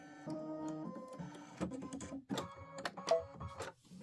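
An Aveneer embroidery machine stitches out a Boo Manor tile design in a 6x10 hoop, with quick mechanical whirring and tapping in uneven bursts. It is close and fairly quiet, and no one speaks.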